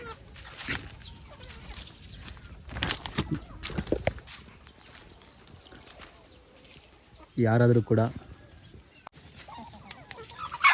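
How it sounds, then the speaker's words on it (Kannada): Chickens on a village farm cluck and squawk in short bursts, with a louder run of calls partway through, while a person talks nearby. "ಕೋಳಿ ಎಲ್ಲ ಇಲ್ಲೇ ಇದೆ"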